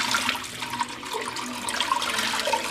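Water runs from a tap and splashes into a pot for soup, a steady close gushing stream with bubbling and splashing throughout and no voices.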